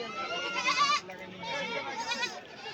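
Goats bleat loudly and up close at the busy Sonapur goat market in Rajbari, their wavering cries overlapping while people talk in the background.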